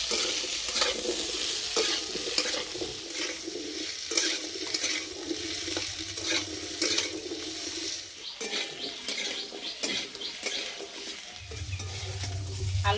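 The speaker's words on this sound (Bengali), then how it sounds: "আলু ভালো করে একটু ভেজে নেব" Potatoes fry in a pan while being stirred: a continuous close sizzle with frequent scraping and clinking of a spatula against the metal, fairly loud, with no one speaking.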